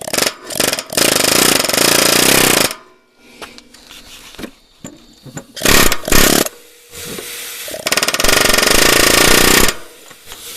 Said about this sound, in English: we're gonna get the air hammer out and try to knock the rust loose